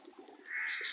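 Pigeons kept in a backyard coop beside native chickens on a home garden plot, giving a short bird call that swells into a sustained, fairly loud note, alone with no talk.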